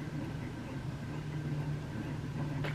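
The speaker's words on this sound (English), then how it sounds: "I have my ceiling fan on and it makes a noise." A ceiling fan runs with a steady low hum and a faint continuous whine, quiet and unchanging throughout.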